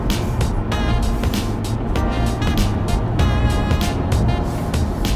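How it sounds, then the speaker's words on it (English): A 2018 BMW 340i engine hums steadily, kept below 4,500 RPM, with a continuous low rumble and some rising tonal whine, moderately loud throughout. "you might be able to hear the engine a little bit."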